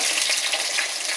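Cut potatoes frying in a pan with salt and turmeric give off a steady, close, fairly loud bright sizzle that holds evenly throughout, with no voices.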